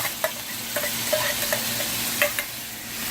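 Beef and onions with seasonings being stirred in a dry pot, a steady scraping hiss with scattered soft clinks of the spoon against the pot, close and moderately loud, no voices.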